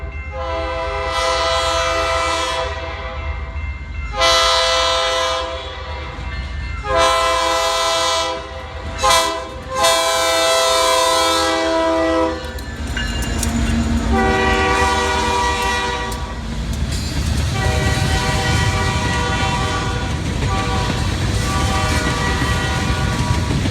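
A Louisville & Indiana Railroad freight train passing, sounding several long, loud horn blasts with brief gaps, then a continuous rumble and clatter of cars rolling by close.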